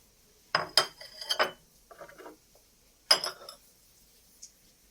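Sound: porcelain saucer and teacup being handled

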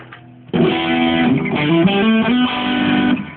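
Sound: electric guitar with boost pedal

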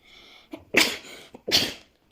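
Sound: sneeze

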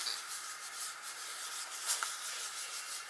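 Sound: blending paint with a wipe in an art journal

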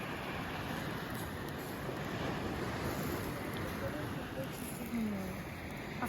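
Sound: Baltic Sea shore in Denmark at sunset, waves

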